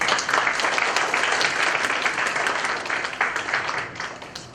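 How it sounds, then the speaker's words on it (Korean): A seminar audience gives warm applause, dense continuous clapping filling the room, steady and fairly loud before tapering slightly at the end. "큰 박수로 환영해 주십시오."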